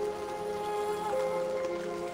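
Continuous rainfall in The 7th Guest VR, an even, close hiss of drops laid over a sustained low musical drone, with faint scattered patters and no voices.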